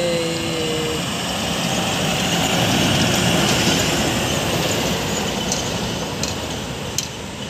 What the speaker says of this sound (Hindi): वो देखिए एक सामने से आ रही है खूबसूरत आई ट्रक